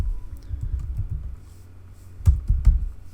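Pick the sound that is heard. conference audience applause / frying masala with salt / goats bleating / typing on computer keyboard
typing on computer keyboard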